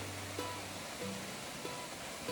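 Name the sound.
waterfall at Basin Creek Falls, Colorado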